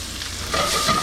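Peppers and onions drop into a hot pan for a vegan sweet potato hash, and the sizzle jumps louder halfway through, then continues as a close, steady frying hiss.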